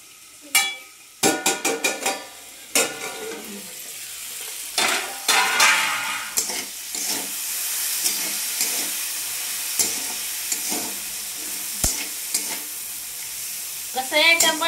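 Cluster beans, chilies and bitter gourd frying in hot oil, a continuous sizzle underneath sharp clinks and scrapes of a utensil against the pan, with several loud bursts early on and near the end.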